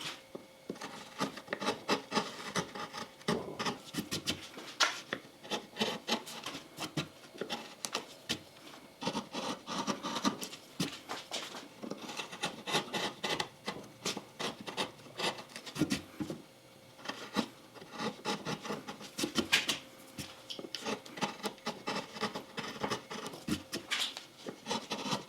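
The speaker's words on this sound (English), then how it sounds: "I'm going to take my V-gouge now and kind of readdress these lower sections of the mountain" A V-gouge cuts into wood while carving a lakeshore cabin landscape, producing close, repeated short scraping and rasping strokes in uneven bursts, with no voices.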